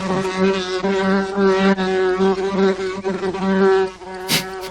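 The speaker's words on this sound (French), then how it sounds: "C'est une abeille, mais ça ressemble à un moustique." A bee buzzes loudly and close by, a continuous droning hum with a steady pitch that wavers slightly, ending with a brief sharp noise.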